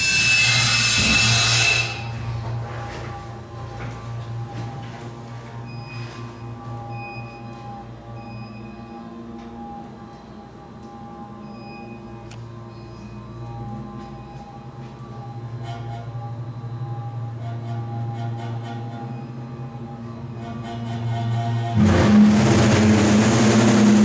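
An old Otis freight elevator runs with a steady low motor hum and faint mechanical whines and clicks, and louder clunks at the start and end as it begins and stops.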